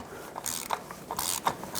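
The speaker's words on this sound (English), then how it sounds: "I'm going to step it up to a 27mm socket and a 1/2 inch longer leverage ratchet" Long half-inch ratchet with a 27mm socket working loose a 2012–2017 Toyota Camry 2.5L oil filter housing, a series of close, sharp clicking ratchet strokes in uneven bursts.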